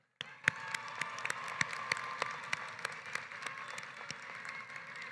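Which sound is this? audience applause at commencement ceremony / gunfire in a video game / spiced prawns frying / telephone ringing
audience applause at commencement ceremony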